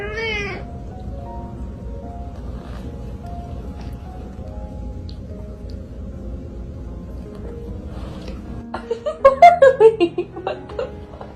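A kitten or cat meows in a short rising run of calls near the end, close and fairly loud, after a long stretch of steady low background noise.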